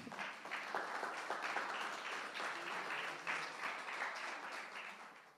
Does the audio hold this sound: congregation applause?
yes